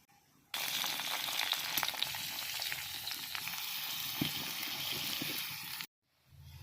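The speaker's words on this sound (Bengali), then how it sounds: "তেলটা গরম হয়ে গেলে রসুন ও শুকনো লঙ্কাটা ভাজতে দিয়ে দেবো।" Garlic and dried chilli sizzle loudly in hot oil in a wok, a dense steady crackle starting abruptly and cutting off near the end, close up with no talking.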